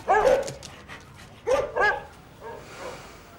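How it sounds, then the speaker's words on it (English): Several dog barks from one of a homeless man's dogs ring out in sharp bursts at the start and again around the middle, fairly close, followed by fainter whimpering yips. "one of the dogs, they're all I've got"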